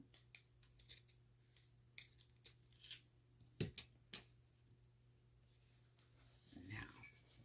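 Scissors snip through pink leggings fabric in a quiet room, a string of sharp, close cuts spaced irregularly, with a low steady hum underneath and a brief rustle near the end.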